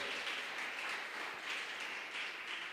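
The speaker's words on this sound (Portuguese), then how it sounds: "Você pode aplaudir ao Senhor?" A church congregation applauds in praise during a sermon, a steady, even wash of many hands clapping that fills the whole stretch without pause.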